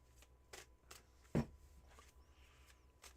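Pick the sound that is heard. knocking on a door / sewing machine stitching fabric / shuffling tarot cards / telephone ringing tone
shuffling tarot cards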